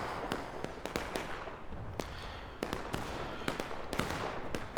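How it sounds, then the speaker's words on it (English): Musket fire in the Civil War video game War of Rights crackles as scattered distant shots, irregular sharp cracks over a steady rumbling background as two sides exchange fire, with no voices. "Just exchanging fire from both sides."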